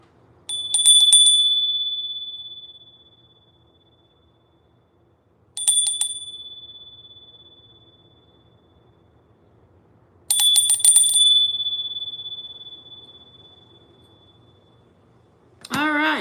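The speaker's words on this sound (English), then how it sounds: "We got a headphone warning because I'm going to ring the bell." A bicycle-style bell rings three times in separate bursts, each a bright metallic ding-ding that decays slowly into near silence, loud and close with no talking over it.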